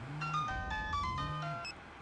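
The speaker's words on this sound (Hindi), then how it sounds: "देखा ओकर फोन आवता। उठावा।" A mobile phone rings inside a moving car, playing a short melodic ringtone in bright, repeating notes over a steady low rumble.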